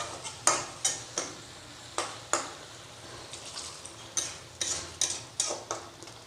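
Mutton curry being stirred in a pot, with a string of light scraping clinks from spoon against metal in irregular bursts, fairly soft and close with no talking.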